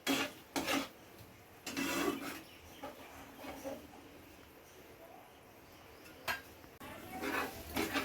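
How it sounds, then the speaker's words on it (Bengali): Beaten sour yogurt with salt is stirred and cooked in a pan for Bengali dahi chicken, with intermittent scraping and rubbing of a utensil against the pan in several bursts amid quiet stretches and faint background noise. "নুন দিয়ে ফেটিয়ে রাখা টক দই আবারও ভালো করে কষিয়ে নেব"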